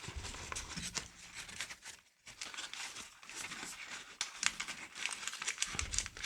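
Paper being creased and refolded for an origami samurai: close, continuous crinkling and crackling with a brief hush partway through, then dense rustling again.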